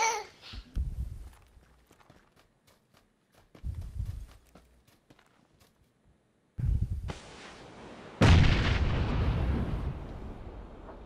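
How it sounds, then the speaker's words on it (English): Sharp pops and hissing bursts fill a video game match as a smoke grenade goes off in a courtyard corner, with scattered footstep-like clicks before two loud, sustained hissing blasts near the end. "He popped a smoke over there in the corner."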